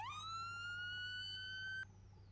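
A sheriff's F-150 patrol siren rises quickly into a sustained wail and holds loud and close, then cuts off abruptly near the end, leaving a low idling hum.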